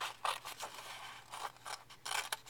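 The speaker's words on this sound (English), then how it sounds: "And then you're going to cut this piece off all the way across." Scissors snipping straight across a sheet of paper to shape an envelope, a run of crisp, close cuts in quick uneven strokes over a faint low hum, with no talking.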